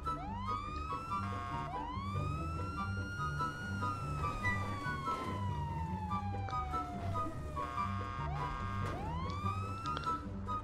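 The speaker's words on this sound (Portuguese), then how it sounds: "Já vai com a sirene ligada." A police siren in a GTA video game wails continuously, its pitch sweeping up and down in long repeated cycles, loud and close over a low engine rumble.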